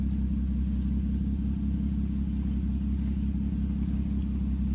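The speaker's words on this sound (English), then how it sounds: "Sound like a goddamn pickup truck." A car's engine idles loudly nearby with a constant deep, pickup-truck-like rumble, steady and unbroken, and no one speaking.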